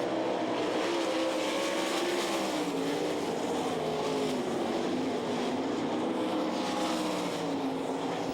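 Sprint cars roar steadily around the Knoxville Nationals dirt track, a continuous loud, buzzing engine drone whose pitch rises and falls as the pack runs through the turns, with no voices over it.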